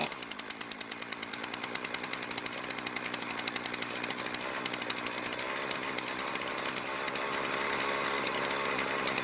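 A Poulan Pro string trimmer's small two-stroke engine runs with a buzzing, rapidly pulsing drone, steady and fairly close, slowly gaining strength over several seconds.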